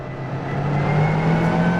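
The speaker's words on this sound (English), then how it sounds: "It's got that really raspy little engine there, and you can hear the whine of the straight cut gears" A raspy, high-revving Mini racing car engine in Assetto Corsa drones steadily with a faint whine of straight-cut gears riding on top, loud and continuous for under two seconds.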